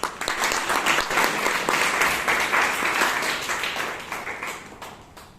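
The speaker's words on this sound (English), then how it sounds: "let's give him another round of applause." A Toastmasters meeting audience in Bangalore breaks into sustained applause, a dense wash of many hands clapping that holds steady and then tapers off toward the end.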